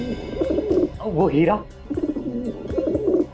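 Pigeons coo repeatedly inside a house, their soft rolling calls close and steady under a continuous exchange of conversational speech.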